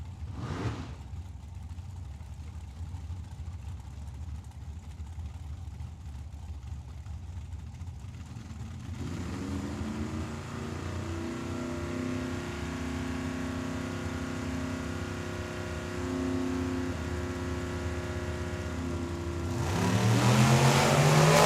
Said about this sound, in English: Now Dylan Smith, that dragster in the left lane.